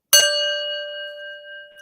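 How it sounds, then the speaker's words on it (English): Gong struck once, a sharp metallic hit blooming into a long, clear ringing tone that sustains and slowly fades, close and alone. "Whiny, let me be the first one to ring the gong."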